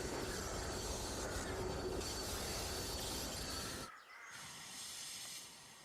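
A steam locomotive grinds and hisses loudly along the rails, a steady roar of braking noise that suddenly drops away near the end, leaving a quieter hiss.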